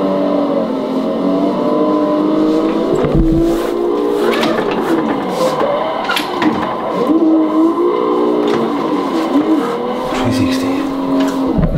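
Car engine revving while drifting in Assetto Corsa, loud rising and falling engine pitch mixed with repeated tire squeals and skids, with voices talking underneath.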